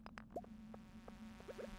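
Bugs buzzing in Stardew Valley, a few brief chirpy buzzes and blips scattered over a steady low hum, faint and with no one talking.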